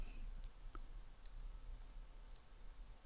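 A few sparse keyboard key clicks while someone works in the Unreal Engine 4 editor, short isolated taps spaced apart and fairly quiet over a low steady background hum.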